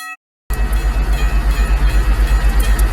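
A US&S teardrop railway crossing bell rings in steady rapid repeated strokes, loud and close, after a brief silent start, with a low mechanical drone underneath.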